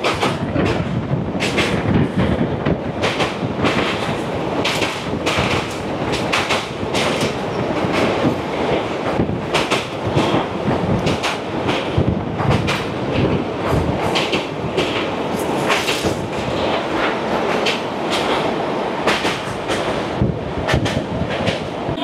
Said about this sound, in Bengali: নির্ধারিত সময় থেকে প্রায় 41 মিনিট দেরিতে আমাদের ট্রেন এসে পৌঁছালো তার যাত্রাপথের আরও একটা স্টেশন